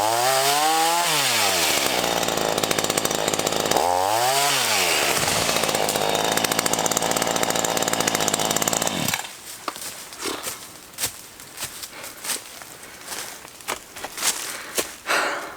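A battery chainsaw trims at a stuck cut in wood, handled by a first-time user. Loud, close motor whine rises and falls in repeated revs, then gives way to rougher, choppy cutting and crackling bursts.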